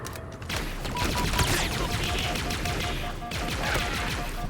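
Dense, continuous gunfire in the Halo Infinite solo campaign, with sustained automatic bursts and crashing impacts filling the clip at steady loudness, and some game sound and faint voice mixed in.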